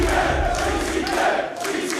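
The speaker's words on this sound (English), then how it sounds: "you heard our crowd recognises them" A wrestling crowd at a Defiant show roars as CCK arrive, a dense, loud wash of cheering and shouting that holds steady and dips slightly near the end.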